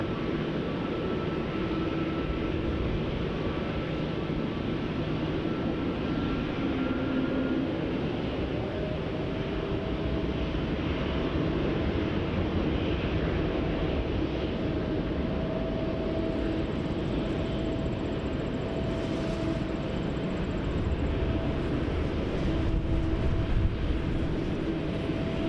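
Air Transat airliner at Montréal-Trudeau airport, a steady broad jet engine roar holding at moderate distance throughout, with a faint tonal whine layered over the continuous rumble.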